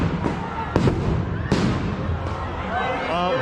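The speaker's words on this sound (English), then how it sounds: "I think they were flashbangs." Sharp nearby bangs of flashbang grenades thrown during a street crowd-clearing with smoke or tear gas in Seattle, three or four loud cracks over a constant crowd din.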